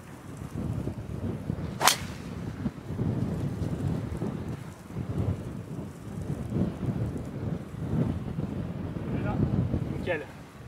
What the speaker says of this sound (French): Bien sûr, je vais jouer un drive.